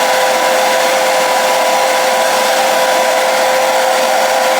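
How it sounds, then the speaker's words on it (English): A hair dryer runs loud and steady at close range, blowing on lace spray just applied to a glueless wig, with a constant whirring drone and no voices. "I'm just gonna blow dry that lace spray I just put"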